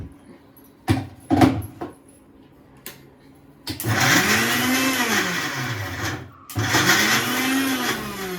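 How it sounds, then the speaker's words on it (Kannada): A kitchen mixer grinder blends tomato with garlic, ginger, turmeric and coriander powder, starting with a few short pulses, then running in two long whirring bursts whose motor pitch dips and rises as the load shifts. "ಟೊಮೆಟೊ ಇಷ್ಟು ಹಾಕ್ಕೊಂಡು ನಾನು ಮಿಕ್ಸಿಗೆ ಹಾಕ್ಕೊತಾ ಇದ್ದೀನಿ"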